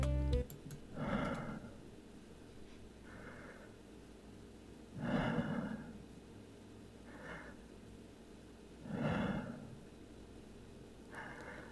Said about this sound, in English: He's breathing in my ear.